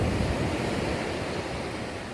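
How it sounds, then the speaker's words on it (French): Big waves at Les Salines beach in Martinique, a steady close roar of surf with wind hiss and no voices. "Donc elle est connue par ses grandes vagues."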